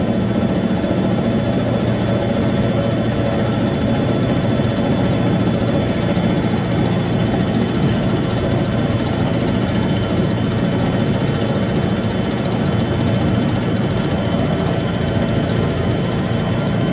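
A lathe cuts a steel trailer pin with a cutting insert, giving off a continuous, dense machining roar that holds steady throughout without a break or any talking.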